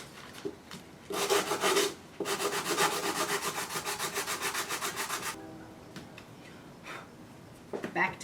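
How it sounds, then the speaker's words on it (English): Hand sanding on wood, close up: a rasping burst, then a steady run of rhythmic back-and-forth strokes before it stops. "And then a little bit of hand sanding"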